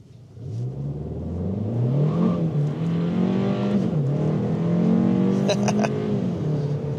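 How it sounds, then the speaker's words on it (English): A 2025 Kia K4 GT-Line Turbo accelerates in sport mode, its engine note rising through the revs, dipping at gear shifts and climbing again, heard from inside the car under a driver's talking. "I'm putting it in sport mode and just do a little acceleration."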